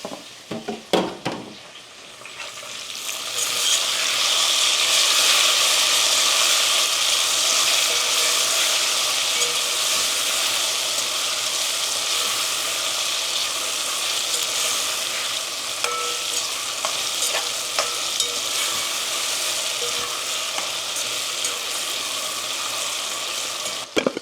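Tomatoes drop into a frying pan with cooked peanuts, bringing a thump and then a loud, steady hiss of frying that carries on with occasional stirring clicks, no talking.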